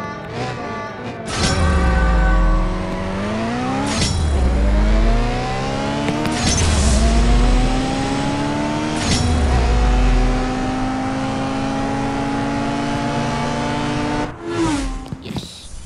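A car engine revs hard in a racing video game, climbing through gears in repeated rising sweeps with sharp drops at each shift, loud and close throughout.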